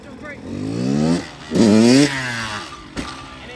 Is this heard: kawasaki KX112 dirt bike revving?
yes